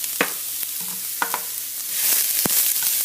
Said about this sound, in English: my onions are burning because I was talking for too long